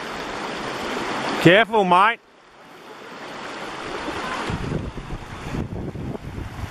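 Reedy Creek flows along in high water, a steady rushing wash mixed with wind buffeting the microphone, building louder toward the end after a brief chirping call and a short spoken warning from a man.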